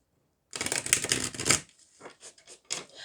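A Chinese tarot card deck is shuffled up close, a dense riffling burst of card flutter for about a second, followed by several softer, separate slaps and shuffles as the cards settle.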